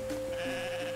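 A goat in the farming video game Roots of Pacha bleats once, a short wavering nasal cry heard clearly over a quiet steady music bed.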